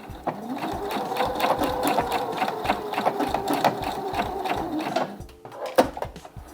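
A sewing machine runs steadily, sewing a blind-hem zigzag seam on fabric with a continuous mechanical whir and rapid needle clatter; it stops near the end, leaving a few quieter clicks.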